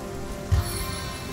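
Steady rain patters on a surface in the video game Divinity: Original Sin, a soft, even wash of drops with one slightly louder thump partway through.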